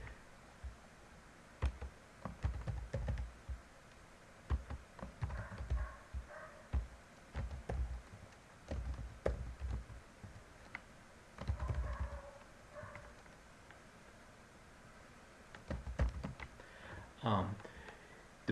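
Quiet, irregular clicking of fingers typing names on a computer keyboard, arriving in short bursts with brief pauses between them, faint and close.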